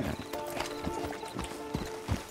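Horses' hooves clip-clopping in Red Dead Redemption 2, an irregular series of hard knocks against a background of game ambience, with a faint whinny and some quiet talk.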